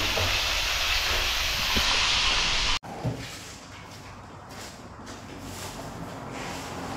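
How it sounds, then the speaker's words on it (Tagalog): Steady loud sizzling hiss of food frying in hot oil, broken by a brief cut, then continuing slightly quieter with crackling. "Ito na po yung pinakamalakasan nating prito"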